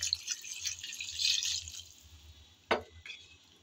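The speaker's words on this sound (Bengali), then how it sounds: "এখন কিছুটা পরিমাণ পানি দিয়ে" Water trickles into a pan where rohu fish cooks with radish, a faint, thin splashing with one brief, sharper splash near the end.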